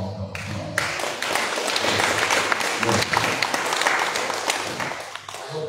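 Congregation applause at a church service celebrating a 200th anniversary, a steady wash of many hands clapping that builds quickly and holds evenly for several seconds before easing off.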